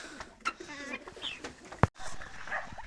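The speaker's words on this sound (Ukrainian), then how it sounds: "О, самі перші півні повибігали з качками." Roosters and ducks call and cluck in a farmyard, with a sharp bang partway through and some background voices.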